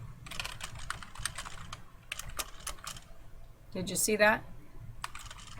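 Fingers type on a computer keyboard in a word processor, tapping out quick bursts of close key clicks with short pauses, and a voice briefly speaks partway through.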